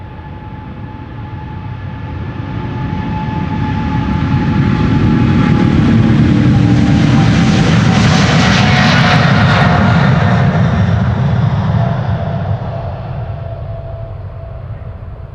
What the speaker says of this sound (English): And the 777 to Chicago. KLM flight 611.